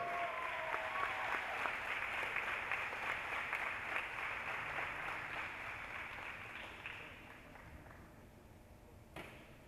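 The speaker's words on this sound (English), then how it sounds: "round of applause for your senior" Audience applause in a university gym for a senior volleyball player being introduced before a SAGU match against Jarvis. A steady wash of clapping runs for most of the stretch, then fades toward the end with a brief sharp tap near the close.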